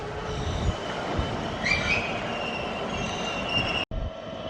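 A Stadler FLIRT train from Ipswich rumbles along the rails with a high squeal of wheels and a steady roar, fairly close, then a brief cut near the end.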